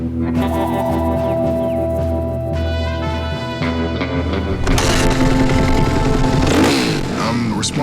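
A loud motorcycle engine revs and roars up close at a track, its pitch rising and falling through several throttle bursts.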